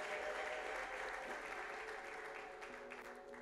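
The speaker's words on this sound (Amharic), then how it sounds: "አጨብጭቡላችሁ ለአስመላኪዎች" Audience applause at a church worship service, broadcast on a Christian TV channel, clapping loudly and steadily for the worship leaders and tapering off slightly toward the end.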